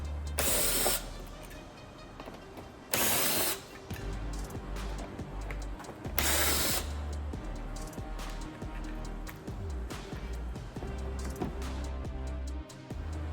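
Power driver backing out three T25 Torx screws from a Harley Low Rider ST headlight, heard as several loud short whirring bursts spaced a few seconds apart, with quieter clicks and handling between them.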